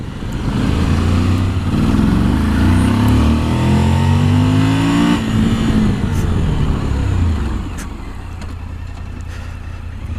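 A Suzuki V-Strom 1000 motorcycle pulls hard through rising engine revs, then eases off as it brakes, with a steady wind-blown roar over roughly eight seconds before the engine note drops away.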